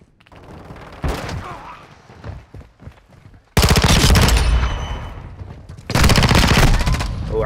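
Gunfire in Call of Duty: Modern Warfare II, loud close bursts of rapid automatic shots in two long volleys with scattered shots in between, no speech over it.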